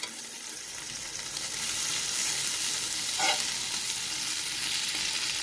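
Butter sizzles in a hot pan while making ketchup-butter toast, a broad steady hiss that grows a little stronger partway through, with a brief scrape midway.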